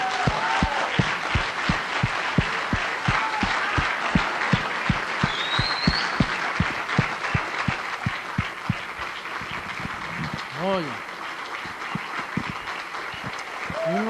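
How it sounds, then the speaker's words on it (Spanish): Sustained rhythmic clapping from a congregation during an evangelical Spanish-language church service, steady and fairly loud throughout, with brief vocal whoops rising over the applause. "vamos a darle un aplauso al jefe"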